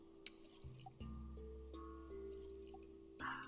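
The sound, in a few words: water dripping as it is generated in Stranded Deep video game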